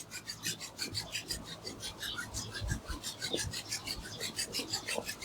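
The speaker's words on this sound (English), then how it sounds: "Slowly rub your palms, make it warm." Palms rubbed briskly together to warm them during a hatha yoga pranayama practice, a close, steady rhythmic rasping swish repeating throughout, with faint low murmurs underneath.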